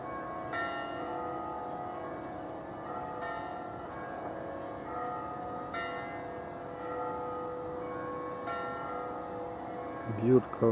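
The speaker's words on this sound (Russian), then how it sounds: "Бьют колокола." Church bells toll outdoors in Kyiv, slow and evenly spaced, four strikes roughly three seconds apart, each ringing on with a long hum above a steady noise of wind or traffic, and a brief knock near the end.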